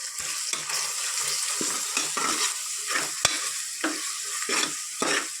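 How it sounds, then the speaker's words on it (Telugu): Spices with turmeric, chili powder and salt sizzle and fry in a pan, a steady crackling hiss broken by repeated scraping stirs of a spoon, close and clear with no talking. "ఇంకొక 2 నిమిషాలు వేగాలి"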